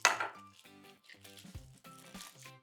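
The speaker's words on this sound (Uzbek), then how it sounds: "Men esa tuxumlarni aralashtirib turaman" Eggs being whisked in a dish give a series of close, light clinks and taps against the bowl, uneven and fairly faint, with short pauses between strokes.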